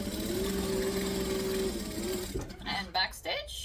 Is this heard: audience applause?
no